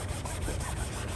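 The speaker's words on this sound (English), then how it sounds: "We're going to take our scrub brush and we are going to scrub down the product and try to clean up as best we can." A scrub brush works over a dinghy fender in a steady, continuous rubbing scrape, close and fairly loud, with faint rhythmic strokes and no voices.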